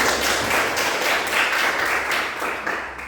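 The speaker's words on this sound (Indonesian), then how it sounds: "Tepuk tangan untuk kelompok 3." Classroom applause from students for a group that just presented a fried-rice cooking activity, steady, dense clapping from a room of people, loud and continuous.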